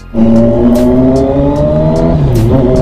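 A loud, close engine revving with a rough rumbling growl, the pitch holding steady and then dipping slightly near the end.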